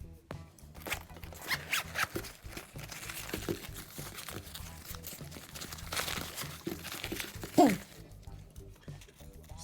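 A BGTREND travel bag is unzipped up close in a quiet room, a run of raspy, stuttering zipper pulls with crinkly fabric handling and a louder tug near the end.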